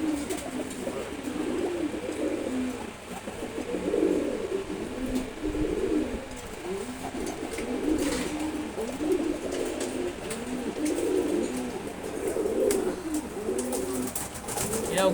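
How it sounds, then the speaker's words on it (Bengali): A pair of Silver Gorra pigeons coo in repeated low, throaty rolling phrases, close and continuous, with one bird answering the other over a quiet background. "এটা সিলভার গোর্রা কবুতর জোড়া।"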